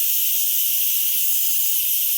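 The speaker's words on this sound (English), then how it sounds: "I don't want to get too close to the steam because that is hot." Steam hisses steadily from a pressure cooker's release valve while a coffee cake cooks, a loud continuous broadband rush that holds unbroken from start to finish with no voices.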